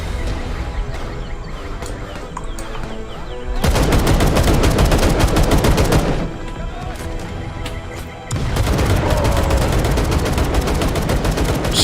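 Rapid automatic gunfire roars in the Vietnam War game Call to Arms, dense sustained bursts with a brief lull in the middle, loud and close, no speech over it.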